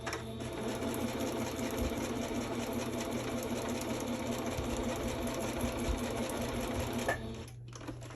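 Sewing machine stitching steadily on a craft project, a continuous close whirring hum that stops abruptly near the end.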